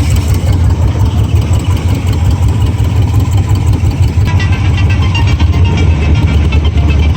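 A 1978 Cobra jet boat's 350 Ingram engine, rated at 325 hp, idles steadily while warming up, producing a loud, continuous, even low rumble with no talk over it.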